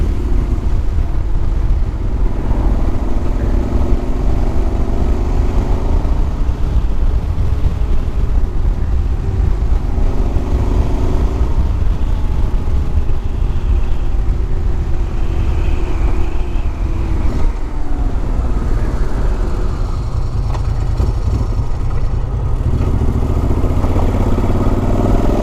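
A Moto Guzzi Quota motorcycle engine drones steadily while the bike is ridden, a loud mid-pitched hum with wind rush that holds throughout, with slight shifts in pitch as the revs change.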